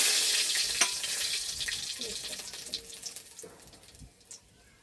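Dried red chillies frying in hot oil in a pan, a bright crackling sizzle that starts loud and gradually fades, with a few sharp pops and a brief stir near the middle.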